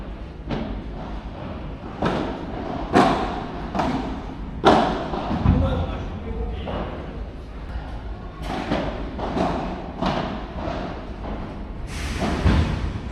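A padel ball is struck back and forth during a rally, sharp racket pops and thuds at irregular intervals with occasional wall bounces, heard over someone talking.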